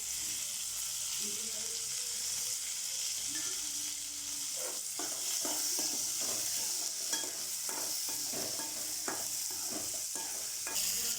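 Tomatoes sauté in a pan for a Tamil pirandai chutney, a constant bright sizzle with bursts of spatula stirring and scraping in the middle and end, no talking.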